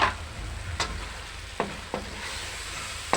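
Shrimp heads sizzling in a hot pan, a steady close hiss broken by a few sharp clinks and scrapes of stirring.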